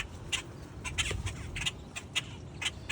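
Birds squawk and chirp in short, repeated bursts at a backyard feeder, sharp calls coming every fraction of a second over a low rustling background.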